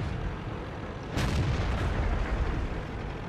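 A tank cannon fires in World of Tanks: one deep, heavy boom bursts out sharply over a low rumbling game background, then its thick roar fades slowly.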